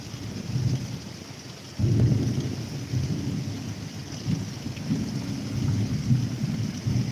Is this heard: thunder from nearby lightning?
yes